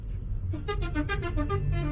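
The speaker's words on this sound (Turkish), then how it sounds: "Oy, o ne biçim korna ya?" A car horn toots several times in quick succession, fairly close, over low rumbling traffic noise.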